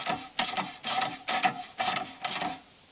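A ratchet wrench loosens the front suspension arm axle nut on a Citroën Traction 11B, six rapid clicking bursts evenly spaced, close and clear with no talk.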